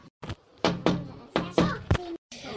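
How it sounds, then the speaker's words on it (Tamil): Knocking on a door in a Tweencraft-style animated cartoon, several quick raps in short bursts separated by brief pauses, close and fairly loud, with voices partly overlapping. "என்ன யாரோ தட்டுற மாதிரி இருக்கு, போய் பாரு."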